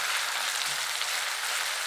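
Onion and tomato frying in a pan on low gas heat, a steady close hiss and sizzle with fine crackles throughout, no talking.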